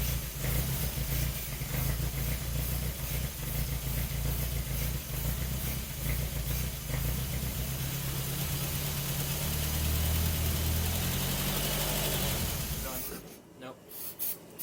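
Barn-find Triumph Spitfire engine running after decades unstarted, on a homemade fuel tank: a steady, close mechanical rumble idles evenly for several seconds before cutting out near the end.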